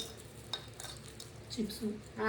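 Spiced flattened rice mixture being stirred and tossed in a bowl, with soft scraping and light rattling clinks in short irregular bursts, a brief louder clatter at the end.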